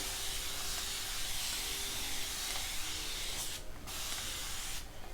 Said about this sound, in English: I have warm water in my spray bottle, so just kind of saturate my hair a little bit again